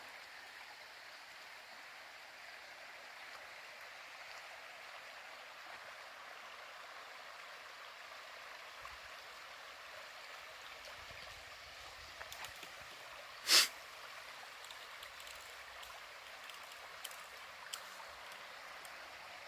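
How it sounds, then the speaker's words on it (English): The main river flowing through Henry Cowell State Park, a faint, even hiss of running water throughout, with one sharp loud crack midway and a few soft ticks later. "once again, the main river running through the park"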